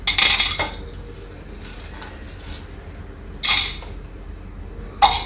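Clinking, rattling bursts of spices dropping into a mixer jar, three separate clusters with quiet pauses between, no voices.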